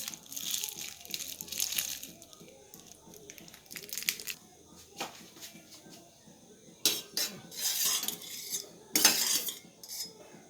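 Kurma gravy pours from a parcel packet of a Kerala parotta and chicken takeaway, with crinkling plastic and clinking cutlery and dishes in irregular bursts, near and moderately loud.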